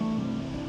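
A small mountain torrent in the Cirque du Cul du Nant, on the Tour du Valaisonnay trek, gives a steady, even rush of flowing water that stays constant throughout this brief moment.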